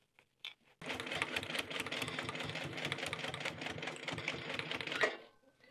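A sewing machine stitches a bag handle in one steady burst of rapid mechanical clatter lasting about four seconds, close and fairly quiet, with faint handling noises before it starts.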